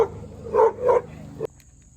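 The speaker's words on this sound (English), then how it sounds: "The dogs was going crazy because people are outside in their yards" Two or three close, loud dog barks ring out in quick succession during a neighborhood walk, followed by a sharp knock and then near quiet.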